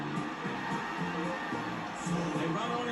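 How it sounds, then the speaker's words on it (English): Stadium crowd cheering at an AFL match in the video game AFL Evolution 2, a steady wall of massed voices with swelling roars and scattered whoops, continuous and fairly loud throughout. "the crowd are appreciating it"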